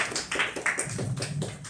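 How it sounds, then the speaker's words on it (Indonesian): A scattering of audience claps greets a speaker at a women's forum on development, with separate claps falling in a loose, uneven rhythm at moderate volume for under two seconds. "Tepuk tangan untuk Kak Susi"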